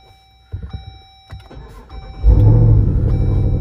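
A Hemi-powered Jeep Wrangler Rubicon (JL) is started after a few clicks and mechanical noises inside the cabin, then the engine cranks and catches into a loud, steady idle, heard close with no one talking.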